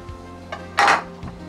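Onions dropped into a pan after a pinch of salt, a short clatter of metal cookware with a brief louder burst in the middle, close and alone.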